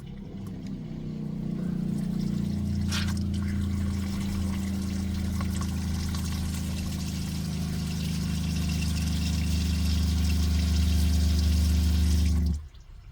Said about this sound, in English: So now we just need to turn our taps on to make sure we're pumping the sterilised water through the entire system.